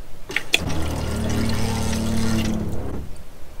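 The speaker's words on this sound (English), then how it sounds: "when you turn the water on, it makes this noise" A campervan's sink water pump runs as the tap is turned on, a steady low mechanical hum with a tonal buzz lasting a few seconds, close by, with a brief click and water splash at the start.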